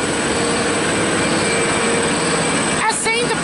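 Endeavour set N11, a diesel railcar, pulls away from platform 2 at Tahmoor station in New South Wales. A steady, loud engine and wheel rumble fills the scene, and a brief higher squeal comes near the end.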